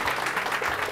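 Audience applause at a Teacher of the Year awards ceremony, a brief burst of steady, moderately loud clapping from a crowd.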